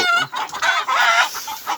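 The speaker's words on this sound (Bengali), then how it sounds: "তাই আপনাদেরকে দেখাচ্ছি দেশি মুরগি" Desi chickens raised for business cluck loudly and closely in a brief burst of overlapping calls.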